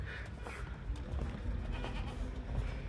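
A large goat bleats somewhere on a Bangladeshi family farm visit, the calls faint and distant under a constant low rumble of outdoor wind and handling noise.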